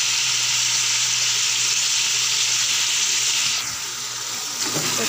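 Peeled, ground tomatoes fry in a pot for a Peshawari namkeen gosht, giving a steady, close, hissing sizzle that runs unbroken and dips only briefly in loudness near the end; no voices.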